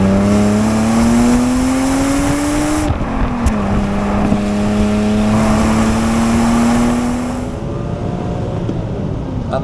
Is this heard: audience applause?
no